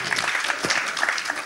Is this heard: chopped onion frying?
no